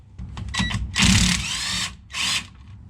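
Power tool spinning bolts off an axle differential cover during a Powertrax Lockright locker install: short close whirring bursts, one long buzzing run and a final brief burst, loud with no talk.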